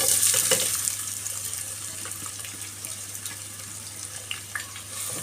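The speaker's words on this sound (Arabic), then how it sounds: "بعد ما اتأكدت ان المادة الدهنية بتاعتي سخنت كويس جدا جدا، هنزل هنا بقى بحوالي 4 بصلات كبار" About four large onions drop into well-heated fat in a pot and sizzle loudly, the hiss strongest at the start and then settling into a steady crackling fry.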